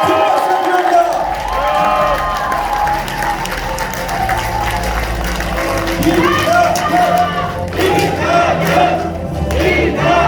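A large crowd at a Korean political forum launch in Gumi claps and cheers for a former party leader, producing a loud, continuous roar of applause with shouts and voices mixed in throughout.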